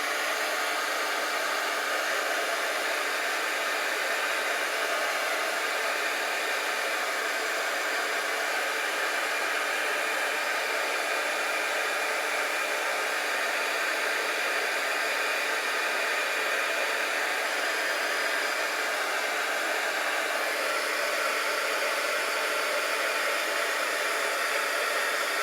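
A hair dryer blows a steady, loud, unbroken airstream over freshly applied paint on a handmade junk journal card, holding an even rushing tone throughout with no voices.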